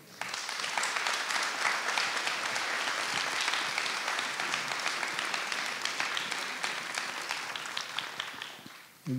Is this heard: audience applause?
yes